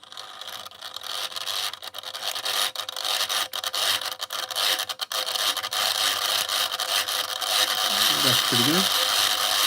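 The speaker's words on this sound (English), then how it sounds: "Clearly the engine hasn't been running for quite a while." An old 00 gauge model train locomotive runs on its track, its long-idle motor giving a loud, continuous rattling whir with a rough ratcheting texture; someone speaks briefly over it.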